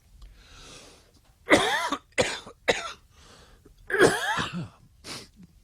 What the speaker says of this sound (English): Oh, my cough's getting better.